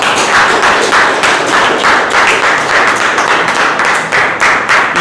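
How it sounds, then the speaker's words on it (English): An audience at a Toastmasters meeting clapping steadily, a loud, dense run of rhythmic hand claps throughout with no break. "Keep on clapping."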